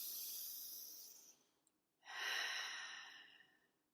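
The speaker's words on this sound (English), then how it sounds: "taking a moment after I accomplish something to just take a deep breath" A deep breath drawn in, a soft airy inhale that swells and fades, then after a short pause a second louder breath that slowly tails off; close and alone, with no talking.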